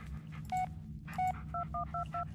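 Phone dialing in the Blair Witch video game, a quick series of two-tone keypad beeps with two longer tones and then five short ones over a low background hum.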